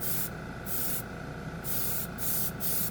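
Gold chrome ink from a cheap paint marker hisses through an airbrush in several short, close bursts separated by brief pauses, soft and steady with no talking.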